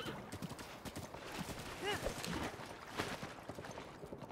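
Horse galloping in Zelda Breath of the Wild: steady rhythmic hoofbeats clip-clop over game ambience, with a brief whinny midway and possible faint voice underneath.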